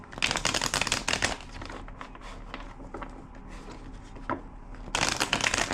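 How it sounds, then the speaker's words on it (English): Playing cards are riffle-shuffled up close, two quick rattling bursts separated by a quieter stretch of soft handling and tapping. "2 more shuffles."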